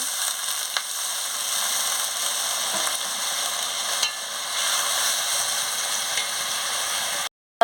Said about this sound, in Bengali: বন্ধুরা কষা কষা করে কেমন তেল বেরিয়ে গেছে এবার আমি পরিমাণ মতন জলটা দিয়ে দিচ্ছি